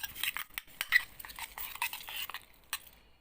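Ready-made toy slime is stirred in a bottle, giving quick, soft clicking and sticky squelching taps in an irregular rhythm, close and quiet with no voices.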